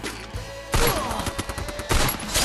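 Rapid M500 pistol shots from the Free Fire video game, several sharp cracks fired in a quick cluster with a louder burst near the end, close and loud with no voices.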